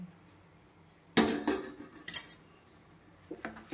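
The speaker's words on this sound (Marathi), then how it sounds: "परत झाकण ठेवतात आपण" Metal lid set back down on a cooking pan of wheat flour sheera, giving a sharp clatter followed by two lighter clinks, close up in a quiet kitchen.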